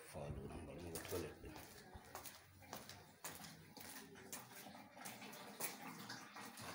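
A tap in a public toilet runs strongly, a steady close wash of water with people talking over it.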